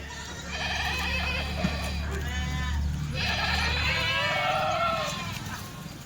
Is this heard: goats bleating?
yes